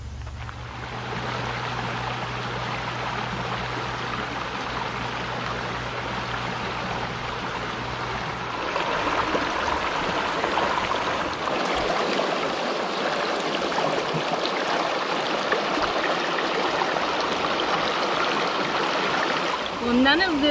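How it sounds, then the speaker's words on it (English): Creek water runs steadily at a creekside RV campground near a swimming hole, a continuous broadband wash of flowing water heard close and fairly loud, with a low hum in the first half and people talking faintly underneath. "I'm gonna get in that creek later."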